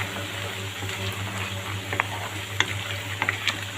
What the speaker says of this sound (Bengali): আমি আবারও নিচ থেকে নাড়াচাড়া করে উল্টিয়ে পাল্টিয়ে মাংসের সাথে আমার এই তেলটা মিশিয়ে নিলাম